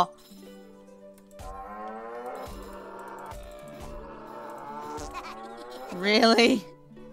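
An evil cow in the South Park: The Stick of Truth video game moos in a drawn-out call over a low game hum and soft thumps, ending in a louder, strained bellow.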